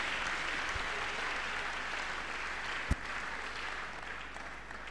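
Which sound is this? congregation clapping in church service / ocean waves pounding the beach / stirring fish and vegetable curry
congregation clapping in church service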